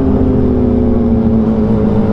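A loud motorcycle engine drones steadily at close range during a group ride, a continuous throaty hum with no talk.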